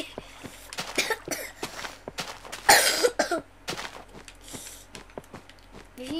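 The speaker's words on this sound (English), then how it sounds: "It's just a cough, right?" A cough from a Minecraft Xbox 360 Edition survival game, one strong burst near the middle among scattered short clicks and thumps, fairly close and moderately loud with no talk over it.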